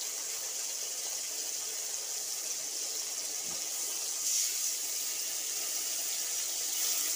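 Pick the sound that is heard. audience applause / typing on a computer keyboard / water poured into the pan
water poured into the pan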